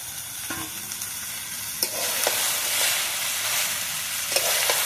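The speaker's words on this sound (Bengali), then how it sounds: "ডাল আর সামলা একসাথে সুন্দরভাবে কষিয়ে নেব" Lentils and cut water lily stems sauté in a pan with steady broadband frying sizzle, punctuated by a few sharp scrapes and stirring clicks throughout, close and fairly loud with no voices.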